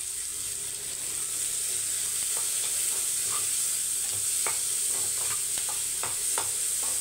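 Finely chopped large onions sautéing in oil in a pan, a steady close hiss of frying with repeated light scraping strokes from a spatula throughout.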